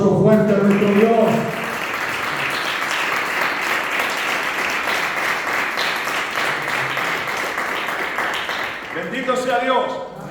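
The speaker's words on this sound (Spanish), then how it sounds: "Den un aplauso fuerte a nuestro Dios." Congregation in a Spanish-language church service breaking into strong applause, a long, even roar of clapping after a few spoken words, fading near the end as a voice returns.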